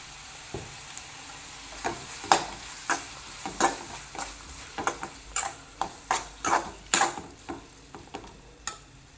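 Onions with ginger garlic paste sizzle in a pan for a dhaba-style egg gravy, while a spoon scrapes and stirs in a steady series of close, sharp strokes over a faint frying hiss.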